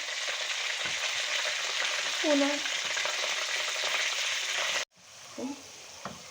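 Chicken sizzling loudly in a hot pan, a dense continuous crackle with a few stirring clinks, cutting out abruptly then resuming more quietly.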